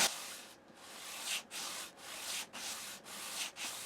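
Sandpaper of 180 grit rubs along the outside edge of a guitar fretboard on a 1970 LP Custom during a refret, in steady back-and-forth strokes with brief pauses between passes, close and fairly quiet.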